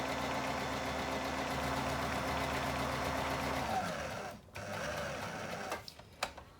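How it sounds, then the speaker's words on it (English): A sewing machine running a straight-stitch seam on fabric, a steady close whirring hum for about four seconds, then stopping and restarting with a few brief clicks and knocks. "I'm just going to sew along with a straight stitch"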